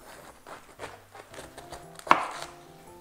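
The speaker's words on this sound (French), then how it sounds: "On commence par couper le choux atlas." A knife chopping napa cabbage on a cutting board, several soft crisp cuts followed by one louder, sharper chop near the end, close and alone.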